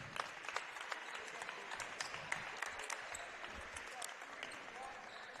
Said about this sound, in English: Clapping from the home fans here, congratulating those guys for playing hard tonight